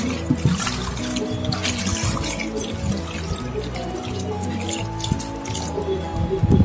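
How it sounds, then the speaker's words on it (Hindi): Water is poured into a cooking pot while trotters are prepared in a home kitchen. Splashing, dripping liquid runs over a few seconds amid clanks and handling noises, loud and close. "अभी पानी डाल दूंगी"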